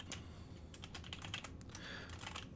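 Steady typing on a Logitech G413 Carbon mechanical keyboard with Romer-G switches, a continuous close run of fairly soft, muffled key clacks without pause.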